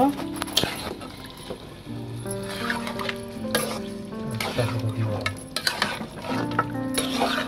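A spatula scrapes and stirs spiced chicken in a pan, giving irregular scraping strokes and knocks over a soft sizzle, with sustained tonal sounds weaving through behind.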